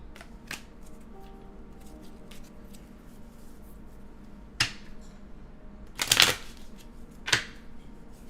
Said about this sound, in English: now y'all can actually hear the sound of my card shuffling